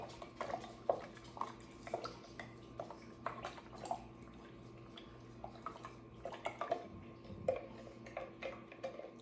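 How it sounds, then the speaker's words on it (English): Sugar being stirred into ginger bug liquid, small irregular clinks and taps of a utensil against the jar repeating through the stretch, close and fairly quiet over a low steady hum. "And then stir it up. Let the sugar dissolve."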